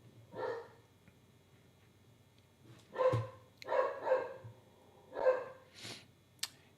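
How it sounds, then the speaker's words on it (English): A pet dog barks in the background of a home office, a handful of faint, spaced barks in short clusters with quiet gaps between them. "in the background, you got my dog barking"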